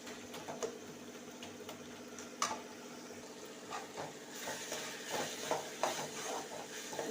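Tomatoes sautéing in a pan for a kuzhambu, with a low steady sizzle under repeated light scrapes and taps of a spoon stirring them, close by and fairly quiet.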